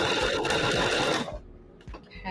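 Close and loud, a sewing machine stitches a quarter-inch seam in a freezer-paper foundation quilt block with a rapid mechanical chatter, stops abruptly partway through, and then gives a few brief clicks, with no speech.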